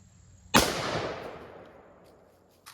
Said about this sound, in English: And we'll see where the next shot lands.